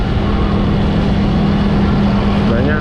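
Congested road traffic during Eid al-Fitr homecoming travel in Indonesia, a loud, steady engine drone and idling hum close by, with a low tonal hum throughout.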